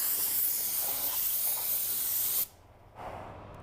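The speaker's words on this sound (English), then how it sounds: "your air pressure and your fluid volume work together to atomize that clear coat" A Sagola 4600 spray paint gun spraying clear coat hisses loudly and continuously for a couple of seconds, cuts off abruptly, then gives a short, softer burst.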